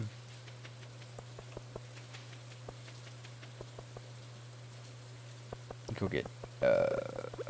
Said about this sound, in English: Because it's raining right now, we can get it.